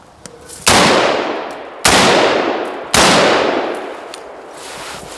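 Three loud rifle shots with a mil-spec trigger at an outdoor range, spaced about a second apart, each sharp crack trailing a long echoing decay.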